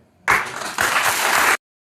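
Applause sound effect: a short, dense burst of crowd clapping that starts abruptly, swells briefly, then cuts off cleanly after about a second and a half, alone without talk.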